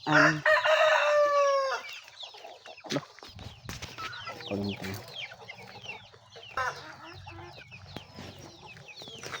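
A rooster crows loudly at the start, followed by scattered hens clucking nearby in a backyard chicken farm, with a brief spoken word partway through.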